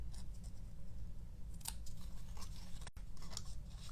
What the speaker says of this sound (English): Now you're going to be careful not to cut past the line.